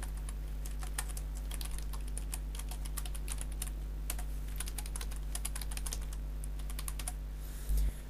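Rapid, irregular keystrokes on a computer keyboard as an email address is typed into a sign-in form, close and clear over a steady low electrical hum, with no talking.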